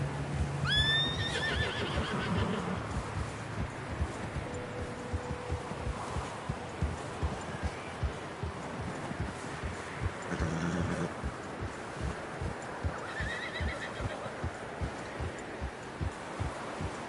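Horses neigh and whinny in a Red Dead Redemption 2 game scene, with a sharp whinny near the start and another around the middle, over a steady bed of hoof clops and ambient rumble.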